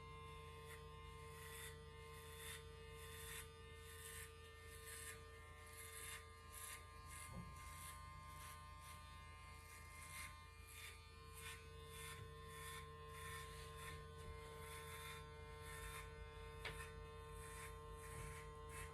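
Electric hair clippers with a grade 1 guard cutting a man's hair, a faint steady buzz underneath with repeated soft pulses as strokes pass through the hair.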